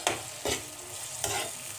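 Spice mix of coriander powder and chilli powder being stirred and fried in a pan for an Assamese dish, with three distinct scraping stir strokes over a steady close sizzle.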